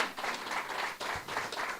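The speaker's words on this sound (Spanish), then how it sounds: "Denle un aplauso fuerte al Rey." A congregation at a Sunday church service claps in a fast, steady burst of applause that fills the room, with no voices heard over it.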